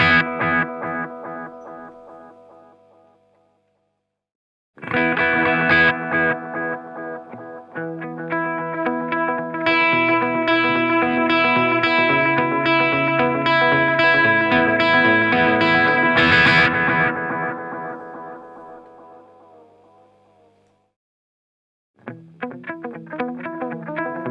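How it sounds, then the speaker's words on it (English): Guitar through a Holy Era tap tempo delay pedal with chorus-like, sweeping modulation on the repeats; several sustained phrases ring out and decay, separated by brief silences, with no one talking. "the modulation control, which adds a nice kind of chorusy, sweepy effect to the repeats"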